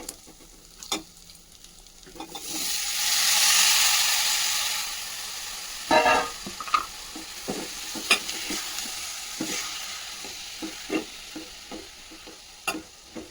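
Onions, fenugreek leaves, dried shrimp and tomato frying in a pan, a steady sizzle that swells into a loud hissing burst, then quieter frying punctuated by sharp clinks and scrapes of a spoon stirring, close by, with no talking.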